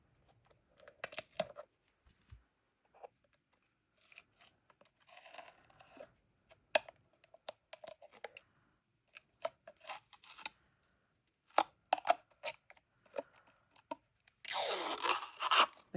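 A package being torn open along its tear strip, a run of scattered rips, crinkles and scrapes at close range that ends in a loud, sustained tearing burst.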